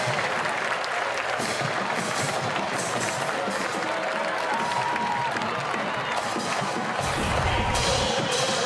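Stadium crowd at a women's college soccer match between Virginia and North Carolina gives a steady, loud roar of cheering and applause, swelling further near the end.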